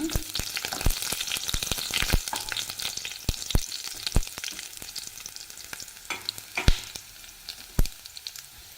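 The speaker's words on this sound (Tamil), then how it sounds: "அஞ்சு பல் பூண்டு நசுக்கி வச்சுருக்கேங்க சேர்த்துக்கலாங்க பூண்டு நல்லா செவந்து வரட்டுங்க" Five crushed garlic cloves fry in hot oil with a steady bright sizzle, broken by frequent crisp pops and spatters and by stirring, close up and with no talking.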